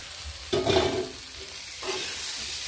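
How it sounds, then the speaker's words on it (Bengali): Bamboo shoots and taro pieces, fried earlier, are stirred into cooked spice paste in a hot pan, giving a steady close sizzle with a couple of scraping stirs that swell the frying hiss. "এটা দিয়ে এটা ভালো করে একটু কষে নিচ্ছি"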